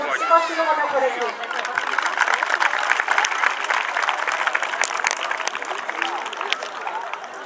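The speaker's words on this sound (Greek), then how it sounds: "Θέλω να μεγάλο χειροκρότημα για το πολιτιστικό σύλλογο του Χωρεκού." Crowd applause fills the open air at a Greek village festival in Neochoraki, a steady dense wash of clapping from many hands with a few voices early on, sustained throughout.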